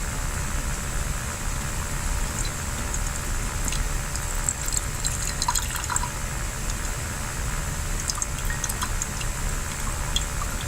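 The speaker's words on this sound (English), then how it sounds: "here I go, pouring regular plain old tap water in." Plain tap water poured steadily into a lab container, a continuous close splashing trickle with faint dripping and bubbling, no talking.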